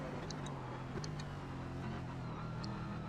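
Race car engine of a Corvette C7 GT car in the iRacing sim, a steady droning roar held at a constant distance with no pauses or talk.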